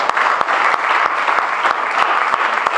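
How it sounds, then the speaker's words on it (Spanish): Steady clapping from a congregation at a Sunday church service, dense and loud with sharp individual claps standing out, close by. "fuerte el aplauso para ella"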